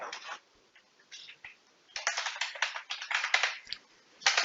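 Fingers typing on a computer keyboard while entering a list of company names into an MS Excel sheet, fast irregular clicks in bursts separated by short pauses, close and clear.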